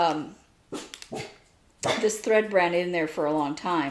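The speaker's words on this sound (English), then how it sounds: "I apologize for the dog barking" Indoors, a dog barks and yelps in a run of loud, close, strained bursts, partly overlapping a person talking.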